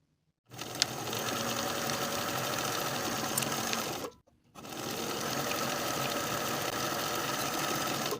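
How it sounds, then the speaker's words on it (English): A sewing machine stitches the shoulder and side seams of a lined woman's coat, running in two steady, fast-whirring bursts separated by a short pause, close and clear. "Sew both shoulders and both side seams with a 3/8 inch seam allowance"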